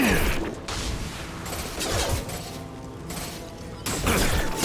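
Gunfire in the Mass Effect 2 shooter, several loud bursts of shots in sequence with mechanical clatter between them and a lingering combat din, fairly close.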